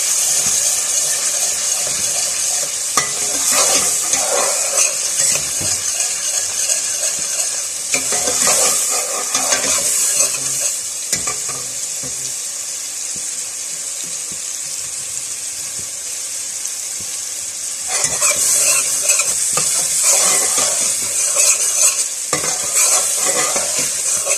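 Onions sizzle steadily in a pan while a spatula stirs them in bursts of scraping, loud and close, the frying hiss continuing between the stirring passes.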